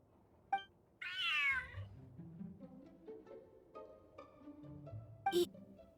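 A cat in the video game Genshin Impact gives a clear, drawn-out meow, followed by soft game music and a short second cat call near the end.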